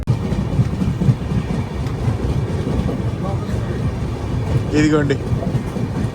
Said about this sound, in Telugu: సేమ్ ట్రైన్ క్రాసింగ్ అయితే అయ్యింది